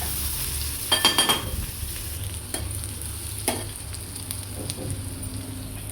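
Horse gram sambar cooks in a pan while a utensil stirs it, a steady low sizzle and bubbling under a few quick metallic scrapes and taps near the start and scattered later.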